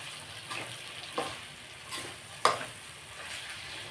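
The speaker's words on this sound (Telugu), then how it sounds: "కొంచెం ఈ తడంతా పోయేదాకా మనం తిప్పుకుంటా ఉంటే అడుగు అంటకుండా ఉంటుంది, అందుకని తిప్పుతున్నానండి" Mutton boti is stirred and fried in a pan as its moisture cooks off. There is a soft, low sizzle with intermittent scraping stirs and one sharper clack.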